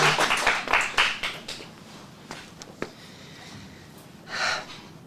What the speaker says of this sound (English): Big round of applause for Daniel with the W